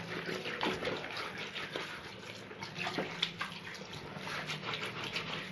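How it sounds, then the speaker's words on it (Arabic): Tap water runs steadily as a vacuum cleaner bag is rinsed under it, a continuous splashing hiss at moderate volume with no talking. "لازم تكون المية جارية اساس تنزل كل الاوساخ"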